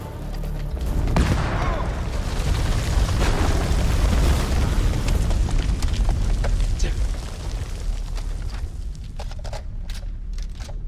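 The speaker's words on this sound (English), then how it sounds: "Grenade!" Grenade explosion in a war video game, a deep rumbling blast with a long, roaring tail of debris and fire that holds steady for several seconds before fading under lingering crackle.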